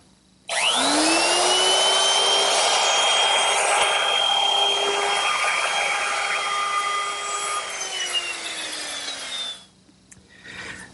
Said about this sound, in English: So I've set up my router with a 1/4 inch rounding over bit.